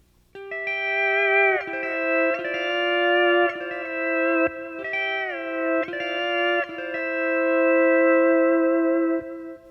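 A twangy pedal steel guitar plays a short lick of sustained, gliding notes that bend smoothly between pitches, with echo and reverb, played alone.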